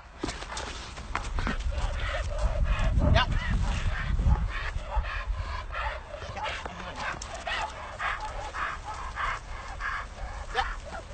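A dog barks repeatedly in quick, yappy bursts nearby, with a rumbling background underneath.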